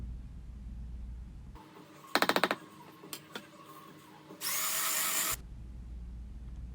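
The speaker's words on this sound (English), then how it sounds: "So I went ahead and grabbed the mixer just to see if whisking it would bring the color out." Electric hand mixer whisking homemade body butter, with a short burst of rapid rattling clicks, a few scattered knocks, then a loud steady high whirring run of about a second before it stops.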